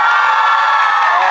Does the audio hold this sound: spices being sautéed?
no